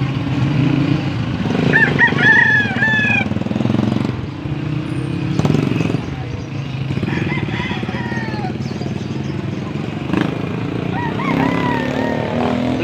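Several roosters crow repeatedly at a poultry market in Angeles, Pampanga, loud and close, their calls overlapping with clucking and a steady engine-like rumble underneath.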